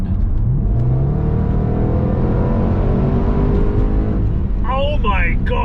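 A Range Rover SVR in race mode accelerates hard, its engine a loud, continuous rising roar heard from inside the cabin, with a voice exclaiming near the end.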